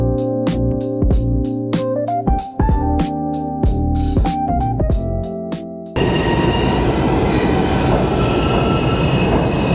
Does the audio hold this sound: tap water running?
no